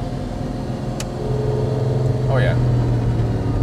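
A Volvo fitted with a Lamborghini engine idles with a low, steady rumble, then builds into a brief rev near the end, as a voice speaks over it.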